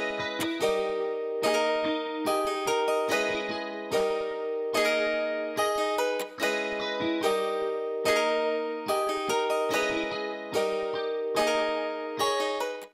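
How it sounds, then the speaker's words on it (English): A music sample from a producer's sample kit plays alone, with rhythmic repeated chords and bright, layered tones at steady loudness. "We are going to use a 14-second sample from the kit plug."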